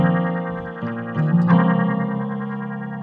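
Main chord progression of a beat, sustained warm chords shifting every second or so through a heavy effects chain with distortion, chorus and echo, played alone without drums.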